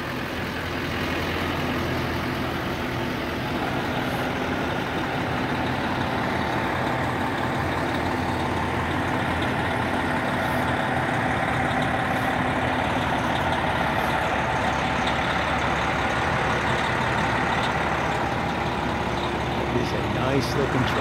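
A Bullhead City fire department truck idles with a steady, continuous engine rumble throughout, while people talk nearby over the drone.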